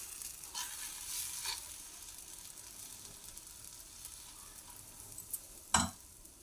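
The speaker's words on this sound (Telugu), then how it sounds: "ఒక 2 గరిటెలు తీసుకొని దోశ అంత పలసన కాకుండా కొంచెం తిక్కుగానే వేసుకోవాలండి." Wheat dosa batter sizzles steadily on a hot pan, a soft continuous frying hiss with a faint clink near the end, no voices.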